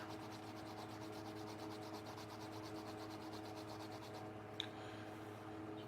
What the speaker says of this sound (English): I think I needed to sand just a little bit more